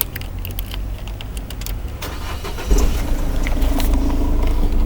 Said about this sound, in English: warm up the engine.